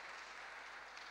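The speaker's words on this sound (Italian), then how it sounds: "applaudetelo pure" Audience applause at a presentation event in Italy, cheering on a young man being introduced; faint, steady broadband clapping throughout a short stretch with no voices.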